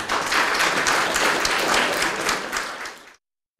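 An audience gives dense, steady applause greeting kindergarten contestants at a winter poetry recitation contest held at the Petőfi Sándor primary school in Püspökladány. The clapping is loud and sustained for about three seconds, then cuts off abruptly.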